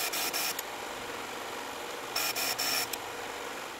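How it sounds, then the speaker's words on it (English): The bevel of a rusty Stanley 9 1/4 block plane blade is sharpened in two short bursts of harsh raspy grinding, quiet and close, separated by a pause. "So we just need to sharpen the bevel."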